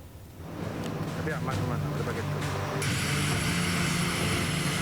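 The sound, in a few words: Hercules transport aircraft landing with aid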